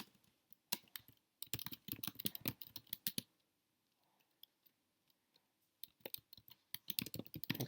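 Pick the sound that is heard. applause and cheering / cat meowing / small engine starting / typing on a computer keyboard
typing on a computer keyboard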